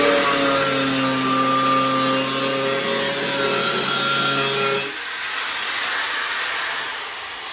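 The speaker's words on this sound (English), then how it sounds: "Really don't like using the cutoff blade, but I don't have a choice right now." A power tool with a cutoff blade grinds steadily through material for an outdoor patio outlet install, loud and close, then shifts to a lighter whirring tone as the cut finishes.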